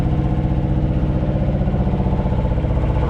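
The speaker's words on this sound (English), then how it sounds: "I think you might hear that engine running," A truck's auxiliary power unit runs steadily, a loud, even mid-pitched engine drone with a faint regular pulse and no other sounds on top.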